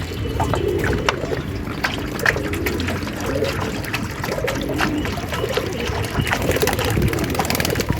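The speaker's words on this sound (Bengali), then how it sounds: "বাদ বাকি যেটা আছে সেটাও ঢেলে দেবো এখন" Leftover water poured out of a pigeons' drinking bowl, a steady trickling and splashing that runs nearly the whole time at moderate loudness, with faint bird sounds mixed in.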